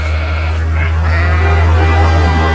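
Sheep bleat in a pasture beside farmland, where they are taken to graze. The bleating runs continuously over a steady low hum, with no talking.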